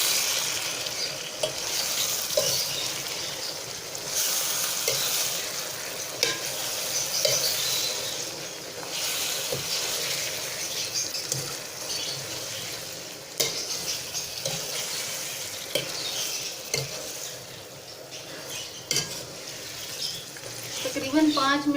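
Bitter gourd (karela) stirred and fried in a pan, with a steady close sizzle and scraping stir strokes throughout, and occasional clinks of the utensil against the metal.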